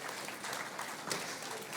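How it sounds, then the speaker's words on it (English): A Sunday-morning church congregation applauds in a brief, steady patter of clapping at moderate distance, with no voices over it. "give him one more round of applause"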